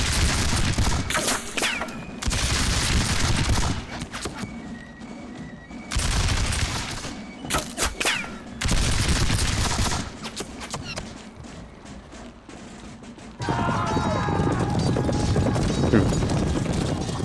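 Volleys of musket fire and cannon blasts boom in repeated loud bursts across a battlefield in a War of the Austrian Succession strategy game, with rattling gunfire between heavier salvos.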